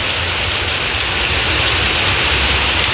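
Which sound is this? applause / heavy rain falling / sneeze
heavy rain falling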